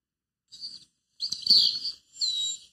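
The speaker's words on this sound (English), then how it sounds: "Then he added the songs of the birds." Birds singing in three short bursts of bright chirping and warbling, clear and fairly close against near silence, with no voices.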